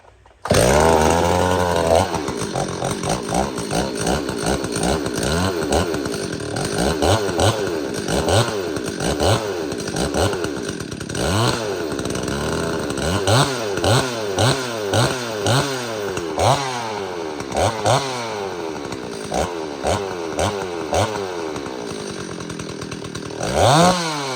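A Stihl 034 AV chainsaw under revival starts and runs loudly and up close, its engine rising and falling through repeated throttle revs, with a raspy two-stroke snarl settling between bursts.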